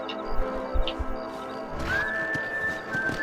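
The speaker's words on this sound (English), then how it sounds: "A horsey." A horse neighs in Red Dead Redemption, a Wild West game, a long rising whinny near the middle amid hoof clops, thuds and low background game sound.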